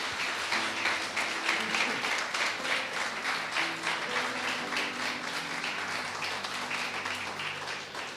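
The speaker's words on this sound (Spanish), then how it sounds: "Denle un aplauso a Dios." Church congregation applauding during a sermon, sustained clapping from many hands with a rhythmic pulse, under soft background music, fading slightly at the end.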